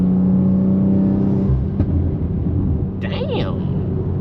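A 400 hp BMW G20 M340i with a new intake filter, heard from inside while driving: a steady engine drone that drops in pitch, followed by a short rising and falling rev near the end.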